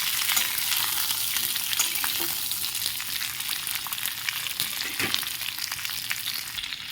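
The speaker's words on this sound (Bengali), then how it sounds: "5 ফোড়ন যে দিয়েছি তার সাথে ভালো করে নাড়াচাড়া করে নেব" Panch phoron spices and fried vegetables stir-fry in a pan with a dense, continuous sizzle and occasional soft clicks of the stirring spoon, heard up close with no voices.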